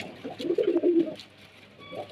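Andhra pigeon cooing close by, a low throaty burst of coos in the middle of the clip that fades to quiet at the end.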